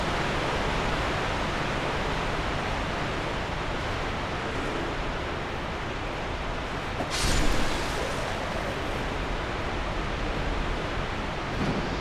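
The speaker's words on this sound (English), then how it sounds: "I'm going under a waterfall." A roaring waterfall in the video game Dark Souls II, a dense, steady rush of broadband water noise that fills the scene at close range, with one brief louder swell partway through.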